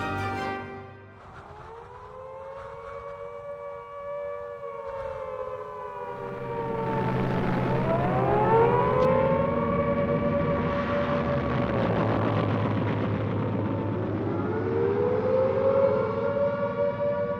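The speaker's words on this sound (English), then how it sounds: "The sirens went off at about 7:30 in the evening" Air raid sirens in Wellington in 1940 wail with long rising and falling tones, several overlapping, loud and sustained across the whole stretch.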